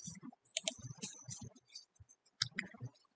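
Quiet computer clicks sound close by, a handful of sharp irregular taps spread across a few seconds with brief pauses between them and no talking.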